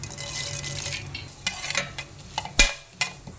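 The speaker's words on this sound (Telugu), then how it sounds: "ఆయిల్ వేస్తున్నాం. ఆవాలు, జీలకర్ర, మినపప్పు," Mustard seeds, cumin and urad dal fry in hot oil with a light, steady sizzle, broken by a few sharp pops and scraping stirs nearby.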